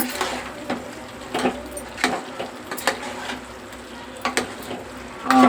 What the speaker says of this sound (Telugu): ఓకే కారం వేసిన తర్వాత శుభ్రంగా తిప్పుకోవాలి